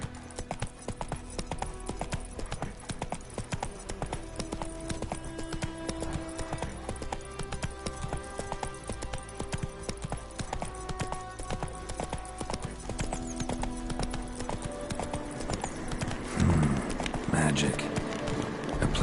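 Horse hooves clip-clop at a gallop in The Witcher 3, a steady rhythmic run under game music and a spoken line, with a brief whinny-like burst near the end.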